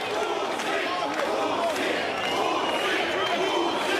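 A capacity boxing arena crowd at Oleksandr Usyk vs Daniel Dubois chants Usyk's name in a loud, continuous mass of voices, a rhythmic roar filling the whole space.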